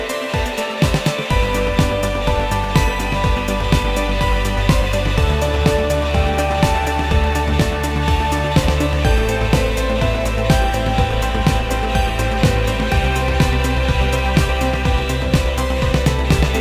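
A layered synth melody doubled by three instruments, a Pigments soft synth, a Fairlight CMI and a Solina String Ensemble, plays within a full mix with steady drums and bass, loud and continuous throughout.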